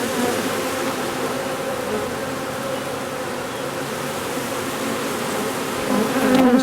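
Dense, steady buzzing of a honeybee swarm being captured outdoors, a close, continuous drone that swells slightly louder toward the end.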